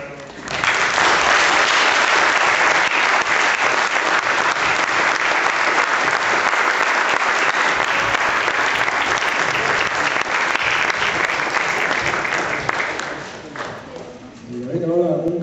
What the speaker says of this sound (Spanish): Primero dar un aplauso